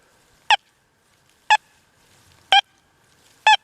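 Four short, bright electronic target tones from an XP Deus 2 metal detector over a deep dime, about once per second, evenly spaced and alone against near silence.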